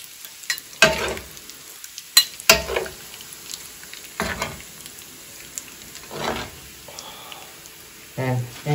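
Garlic browns in butter in a pan, heard as short bursts of sizzle and stirring with scattered clinks of a utensil against the pan, separated by quieter gaps.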